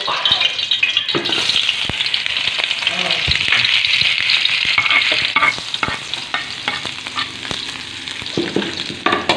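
Onion and garlic frying in a pan, with a loud, bright sizzle and repeated scraping and clacking of stirring up close, while voices talk over it.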